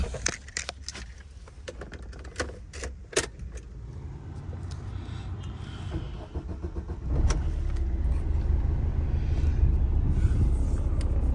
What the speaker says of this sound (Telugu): ఇంజిన్ స్టార్ట్ చేసి చూపిస్తాను